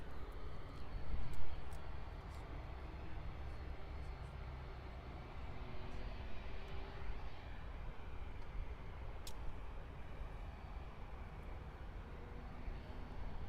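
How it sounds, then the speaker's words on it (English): A distant Aeromexico airliner arrives from Mexico City at Miami airport, giving a faint, steady broadband jet roar with a slight swell near the start and outdoor background noise. "And here is the Aeromexico flight arriving in from Mexico City."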